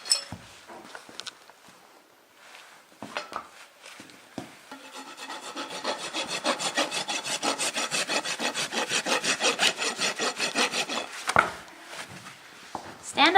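During a barefoot trim on a horse, a hoof rasp files the hoof, starting with scattered scrapes and building into a steady run of rhythmic back-and-forth rasping strokes up close before it trails off.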